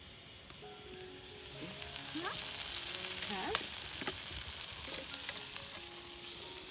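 Pomfret fish pieces frying in a pan, a steady loud sizzle and crackle running throughout with occasional small pops and clinks of a utensil, no talking.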